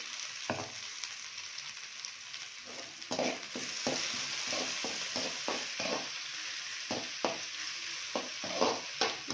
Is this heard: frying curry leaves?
yes